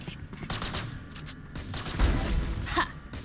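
A video game turret fires rapid bursts of gunfire, mid-distance and fairly loud, with a few separate shots spread across a few seconds.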